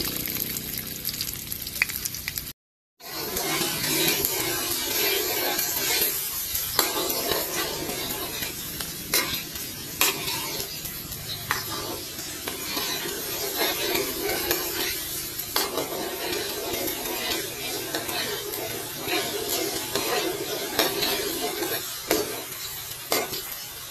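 Garlic, onion and ginger fry in hot oil for Filipino bopis, a dense continuous sizzle close by, punctuated by frequent spatula scrapes and taps against the pan after a brief gap near the start.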